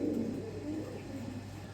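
Pigeons cooing in a loft, with an Andalusian pouter hen among the birds: soft, low, continuous burbling coos at close range, with no talk over them.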